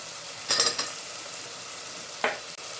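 Tomatoes dropped into a hot oiled pan for vegetable soybean biryani, a short close burst of sizzle and stirring clatter, then a steady frying hiss with another brief sizzle flare.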